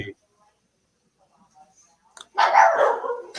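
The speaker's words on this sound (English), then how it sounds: "oh, the dogs." Dogs bark in a burst near the end of a mostly quiet stretch, a short dense yapping flurry heard indoors behind an online conversation, with a brief voice at the start.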